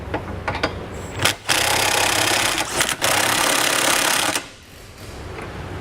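A 3/4 inch socket wrench, likely power-driven, snugs up the Curt trailer hitch bolts on a 2018 Alfa Romeo. It gives two loud, steady whirring runs of a few seconds each, with brief pauses before and after, close and alone.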